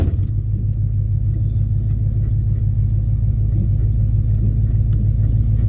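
A lowered GMC C20 truck rolls along with a steady, loud low engine rumble and road drone throughout, close and continuous with no talking.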